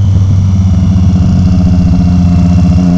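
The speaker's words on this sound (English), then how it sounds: "I got the Two Brothers S1R slip-on, and it sounds really good" A Triumph Street Triple motorcycle fitted with a Two Brothers S1R Black Series slip-on exhaust idles loudly up close, a deep, steady rumble with a throbbing low pulse and no speech.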